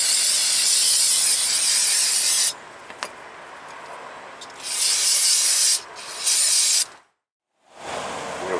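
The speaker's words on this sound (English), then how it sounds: "File these landings down, clean them up first. Get down here with the file." Hand file scraping brake caliper bracket landings on a 2007 Chevrolet TrailBlazer front brake, loud harsh rasping in sustained bursts with short pauses between strokes, near and without speech.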